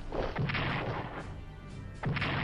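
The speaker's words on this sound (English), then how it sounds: "Yeah, this is brutal on a whole new scale. Their artillery." Artillery fire in the video game Strategic Command: World at War, a continuous rumbling barrage with heavy booms near the start and end, loud and dense with no talking.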